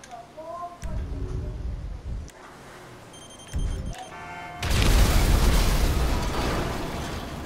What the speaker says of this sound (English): let's place a bomb here